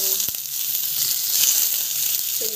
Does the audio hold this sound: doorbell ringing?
no